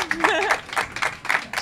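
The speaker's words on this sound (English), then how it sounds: "How about a round of applause for Annie" An audience at a Kona breakfast show applauds a triathlete guest, bursts of clapping rising and falling in short waves, with a voice speaking over the start of the applause.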